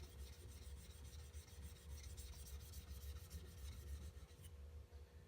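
A wood chisel rasps back and forth on a sharpening stone in a run of quick, faint, evenly paced strokes that cut off just before the end.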